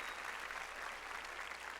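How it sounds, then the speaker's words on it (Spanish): A church congregation claps in praise during a sermon, a dense, continuous patter of applause heard fairly faintly and without pauses. "Dele palmas al Señor."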